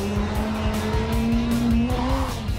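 A race car fitted with a Honda CBR 600 engine is driven hard through a cone course, its high-revving engine note rising and falling steadily while the tires squeal continuously in the corners, loud and close throughout.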